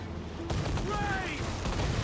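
Cannon fire in a pirate video game, a dense broadband volley that starts abruptly and rumbles on with overlapping booms, with shouting voices mixed in throughout.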